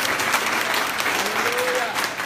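A church congregation applauds and cheers at an evening service in New York, a dense, steady wash of clapping from a large crowd with voices and a sustained shout rising over it.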